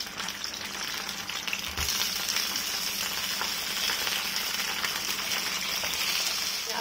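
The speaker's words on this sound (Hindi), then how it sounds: "ये कचौड़ी फ्राई भी हो गई" Kachori frying in a pan with just two spoons of oil, giving a steady, close sizzle and crackle that runs without pause and gets slightly louder partway through, with no talking.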